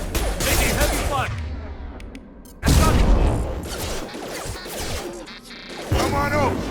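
Heavy gunfire in the video game Mass Effect 2 comes in loud, crashing bursts with booming impacts, broken by a brief near-silent gap, while voices talk over the combat.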